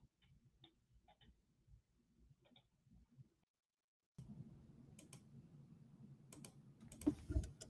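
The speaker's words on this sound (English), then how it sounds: "I can hear you clicking on your keyboard" Keyboard clicks from a computer on a remote podcast call, a quiet run of light taps that stops, then louder close clatter over a hissy, noisy line.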